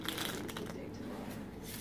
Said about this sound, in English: Now I'm going to shuffle them.